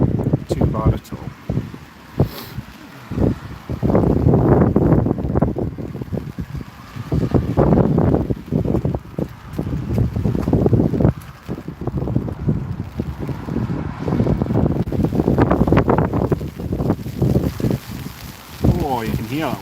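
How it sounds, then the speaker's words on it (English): Gusty wind roars and buffets the microphone at Newcastle International Airport, loud uneven surges rising and falling over nearly twenty seconds. "Oh, you can hear that wind. That wind is picking up a bit as well."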